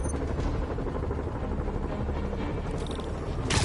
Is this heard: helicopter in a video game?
yes